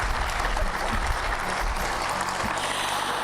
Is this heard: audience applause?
yes